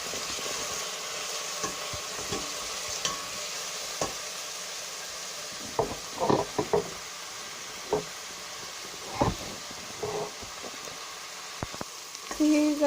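Vegetable soup base sautéing in a pot gives a steady soft sizzle, broken by a series of brief clinks and scrapes from stirring.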